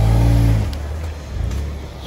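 A Jeep engine labours loudly in four-low for about half a second before dropping away, followed by faint background noise and a brief distant voice.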